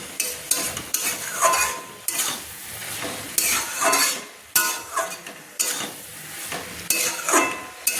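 Cabbage stir-frying in a hot pan: steady sizzling broken by repeated scraping and clanking strokes of a spatula against metal, close and loud, no voices.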